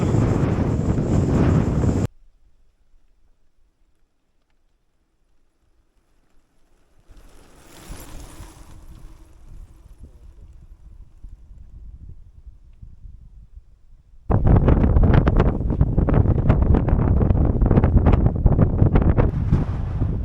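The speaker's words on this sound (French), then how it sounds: "Vent de face, on se prend tout le sable, toute la poussière là." Harsh, loud headwind in a sandstorm on the Bolivian salt flats, buffeting the microphone in roaring bursts, cutting out in the middle before blasting back strongly.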